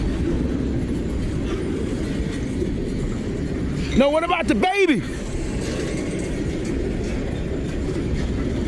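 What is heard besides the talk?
train passing on rails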